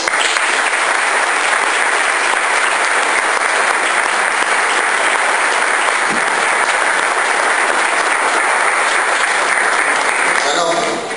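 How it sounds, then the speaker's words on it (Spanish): A church congregation applauds, loud and unbroken sustained clapping that fills eleven seconds at an even level before cutting off briefly at the end. "Si vamos a dar un aplauso, que sea para él."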